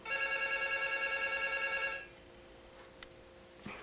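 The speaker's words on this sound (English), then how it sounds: "My phone's ringing." A cell phone rings indoors with a steady, pulsing electronic tone for about two seconds, then stops, leaving quiet room tone broken by a couple of faint clicks.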